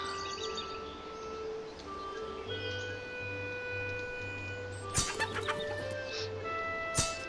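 Chickens cluck and a rooster calls in the video game Arcfall, set over faint in-game ambience and a low musical hum, with a couple of sharp louder clucks near the end.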